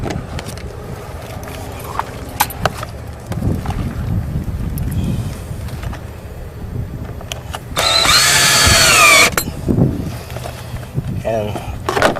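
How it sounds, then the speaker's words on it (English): A power drill bores into vinyl house siding during an outdoor cable installation, a loud, high whine lasting under two seconds, heard amid wind noise and some talk. "when you're drilling in the vinyl, it's very, very, very important you don't screw up"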